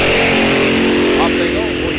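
Drag racing cars launching down the strip at Rock Falls Raceway during an NHRA National Open, one running a standard roots-style blower; a loud, dense engine roar with a commentator talking over it throughout.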